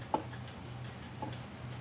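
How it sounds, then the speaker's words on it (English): An early electric chiming clock ticks faintly indoors, giving two soft clicks about a second apart over a low steady hum. "That's an early electric clock that plays chimes every 15 minutes"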